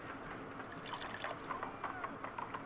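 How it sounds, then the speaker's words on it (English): Water poured into an ice knife mold in Sherlock Holmes: Crimes and Punishments, a soft, steady trickle with light splashing drips that grow slightly livelier toward the end, heard alone at low volume. "Pouring water in there."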